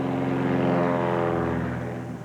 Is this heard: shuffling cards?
no